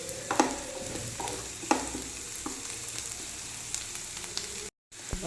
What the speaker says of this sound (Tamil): இந்த மாதிரி நல்லா வதக்கிக்கோங்க